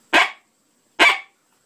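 Two sharp, loud dog barks blown on a Double Dog Dare Ya 2-in-1 closed-reed predator call, imitating a dog, with a clean pause between them.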